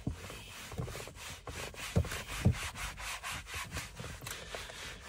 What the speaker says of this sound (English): we're going to give that another little go over with the Shimmer all-purpose cleaner